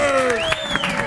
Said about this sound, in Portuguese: Primeiro, uma salva de palmas pra essa turma que vem aqui.